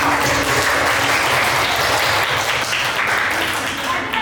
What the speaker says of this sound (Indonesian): Ya, semangat tepuk tangan.